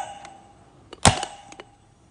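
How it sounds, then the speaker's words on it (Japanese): A single sharp electronic drum hit from a toy rings out, flanked by a few faint light taps before and after, against a quiet background. "あ、今度は太鼓の音だ。"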